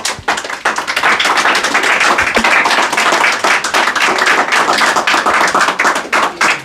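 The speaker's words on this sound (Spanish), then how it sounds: "Un aplauso al Señor, mis hermanos." A church congregation applauds the Lord in a loud, steady burst of dense clapping that fills the space for several seconds, with a few sharper hand claps near the front and no talking over it.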